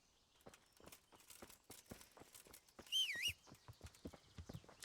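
Rapid clip-clop of a horse's hooves in a video game at a steady walking rhythm, close and fairly clear, with a brief high whistling or chiming sound partway through.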